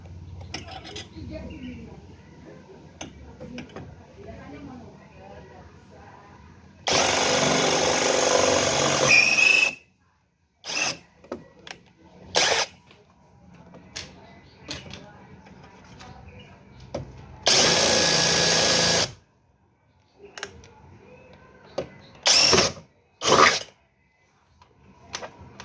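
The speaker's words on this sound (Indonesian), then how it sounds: "bor." A power drill bores holes for fitting a motorcycle footstep on a Minerva Electron EXC5 electric motorbike, running in two long loud bursts and several short ones, with quieter handling noises and some talk between.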